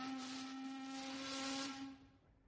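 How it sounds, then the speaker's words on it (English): A steamer's whistle screeches loud and steady for about two seconds, a shrill sustained tone with hissing steam around it, then it tapers away quickly. "The steamer whistle screeched"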